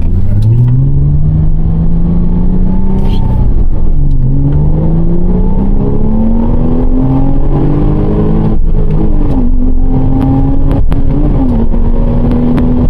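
A Porsche Cayman S engine pulls hard on winding backroads, its close, loud note climbing steadily through the revs, easing briefly between gears, then rising again with no talk over it.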